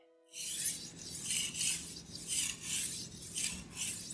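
A knife edge is sharpened on a whetstone in steady, close back-and-forth strokes, each a bright gritty rasp repeating about every half second, with no voices.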